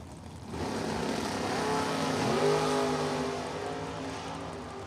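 A Corvette and a 1973 Camaro roar down a drag strip in a Friday night race, their engines a loud, sustained drone that swells and climbs in pitch midway before easing slightly.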